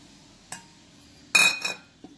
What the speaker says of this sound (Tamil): இந்த பன்னீர் எல்லாத்தையும் மிக்ஸ் பண்ணிக்கோங்க.